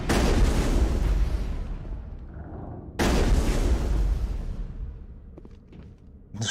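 Two heavy explosions in the video game Mass Effect, each a loud, deep booming blast that slowly rumbles away, the second hitting about three seconds after the first, with faint small clicks in the fading tail.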